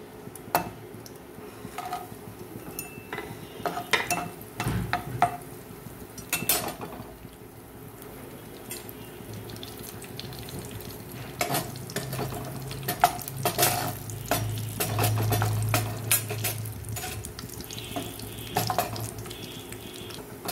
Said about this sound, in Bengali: অল্প কিছু কিশমিস আর কাজু আমি এই তেলে ভেজে নেব